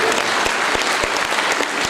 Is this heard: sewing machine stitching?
no